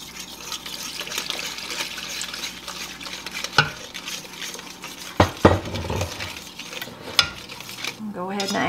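Milk being added and stirred into a chocolate cream pie filling of cocoa and salt, with soft scraping and liquid swishing, a few sharp utensil clinks against the pot, and a brief pour near the end.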